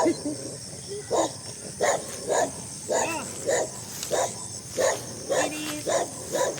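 A dog barks repeatedly in an even rhythm on a farm in Isabela Province, the barks fairly close and loud, with faint talk in the background.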